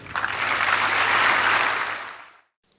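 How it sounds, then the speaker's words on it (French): An audience applauds award recipients at a ceremony, a dense, steady burst of clapping that holds for about two seconds and then stops abruptly. "adresser aux récipiendaires les applaudissements mérités"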